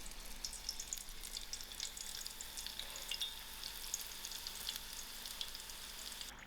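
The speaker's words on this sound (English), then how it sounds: "in my frying pan I have 2 centimeter oil that's already heated up" Samosas frying in about two centimetres of hot oil in a small frying pan, steady sizzling with fine crackling and popping throughout, continuous and fairly quiet, with no voices.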